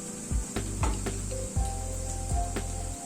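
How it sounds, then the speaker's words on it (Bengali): Onions frying in a pan over a medium gas flame give a soft, steady sizzle, broken by a few sharp knocks and clatters from stirring, with a low hum underneath and no voices. "গ্যাসের ফ্লেমটাকে মিডিয়ামে রেখে 2-3 মিনিট সময় ধরে পেঁয়াজটাকে ভেজে নিলাম।"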